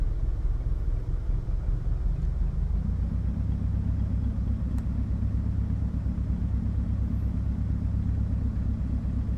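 A truck with a Series 60 Detroit engine and 15-speed transmission in American Truck Simulator, a steady, loud low diesel rumble droning continuously, deepening slightly after a few seconds.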